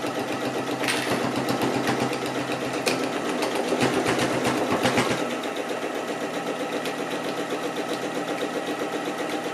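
A sewing machine stitches ribbon onto a fabric pouch in a fast, steady mechanical run for about five seconds, then settles into a lower, quieter hum. It sounds close and loud, with no voices.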